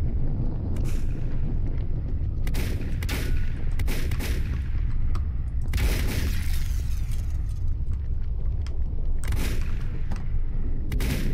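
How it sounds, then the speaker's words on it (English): Gunfire in the video game Volcanoids, several separate sharp bursts of shots spread across the clip over a constant low rumble, no talking. "He's shooting me."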